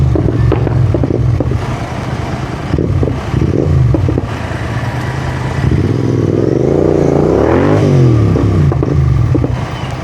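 A GT motorcycle engine revs loud and close, with throttle blips and rising and falling pitch over rough road and wind clatter, climbing to a high-RPM sweep near the end.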